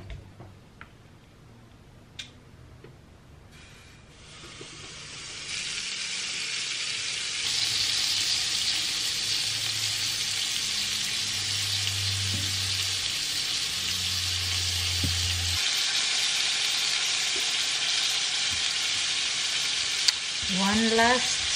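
Garlic shrimp sizzle on an indoor searing grill, a steady broadband hiss that swells after a few seconds and holds loud and close, with faint low hum underneath and a brief clatter near the end.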